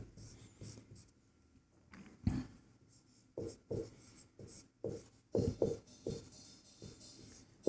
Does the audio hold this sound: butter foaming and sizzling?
no